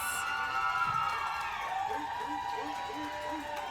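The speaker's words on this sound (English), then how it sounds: "this crowd is loving them some Ginger" A crowd cheers at a roller derby bout, a sustained roar of many voices beneath a close commentator talking, with sharp whistle-like tones briefly cutting through.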